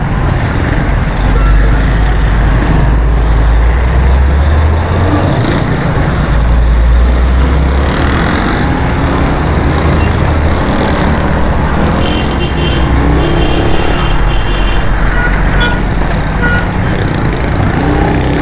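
Truck engines and steady street traffic rumble loudly and continuously on a busy road in Karachi's Shershah area, with vehicles passing close by and occasional air-brake hiss.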